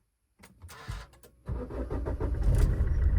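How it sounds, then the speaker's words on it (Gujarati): A diesel engine cranks over with a few clicks and whirs, then catches and settles into a loud, rough idle heard close up. "ખાલી સાઉન્ડ સાંભળો આનો સ્ટાર્ટિંગ ડીઝલ એન્જિનનો"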